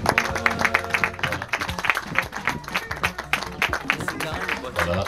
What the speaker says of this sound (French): Je voudrais quand même qu'on applaudisse